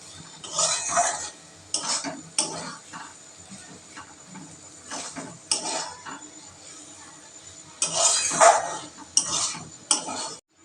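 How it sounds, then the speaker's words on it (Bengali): Beaten eggs being stir-fried with chopped vegetables in a pan for cheese egg chowmein, with intermittent bursts of utensil scraping and clinking against the pan and quieter gaps between strokes. "ডিমটাকে খুব ভালোভাবে আনাজের সাথে ভেজে নিতে হবে।"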